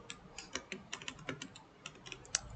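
Quick clacking keystrokes on a computer keyboard while coding a Flutter e-commerce app, a steady run of close, crisp taps with one sharper key hit near the end, no voices.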